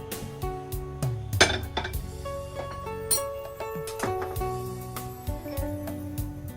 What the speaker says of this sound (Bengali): এই যে লবণ দিয়ে এটা সবটা আমি এইভাবে গুলে নেব।